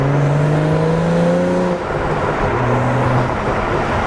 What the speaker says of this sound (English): I'll give you guys like a little exhaust sound right here.